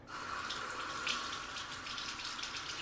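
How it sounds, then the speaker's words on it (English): Running tap water hissing steadily into a sink as a facial cleansing brush is rinsed under the stream, close and continuous with small splashy flickers, no speech. "The first thing you're going to want to do is run this under water."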